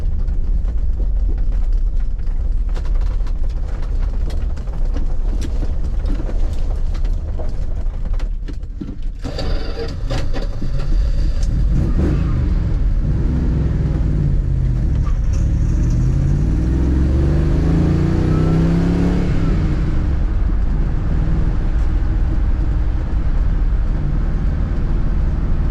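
A 1978 Dodge Aspen R/T drives over hilly farm ground, its engine rumbling loudly up close, then revving and climbing in pitch as it accelerates hard, with rattles and road noise throughout.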